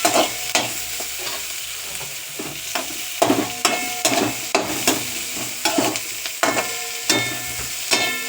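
Tomato and capsicum hit a hot pan and fry, with loud rhythmic stirring scrapes and clanks over a steady sizzle, close up and without voices.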